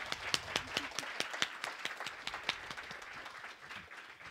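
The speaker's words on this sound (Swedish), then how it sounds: "En applåd." Audience applause at the close of a Swedish forestry talk on mixed woodland, steady clapping from a moderate-sized room with sharp individual claps standing out, gradually thinning toward the end.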